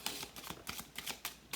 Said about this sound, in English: This deck also feels really good to shuffle.